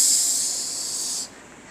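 Loud steam hiss from a narrow-gauge steam engine, a steady bright rush that holds for over a second, then cuts off sharply, leaving faint background.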